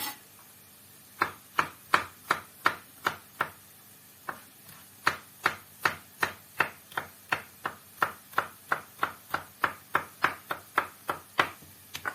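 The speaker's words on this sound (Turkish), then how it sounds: "Sarımsaklarını da kıyalım." A knife chops garlic on a board in a steady run of crisp, close taps, about two per second after a short pause, with no voices.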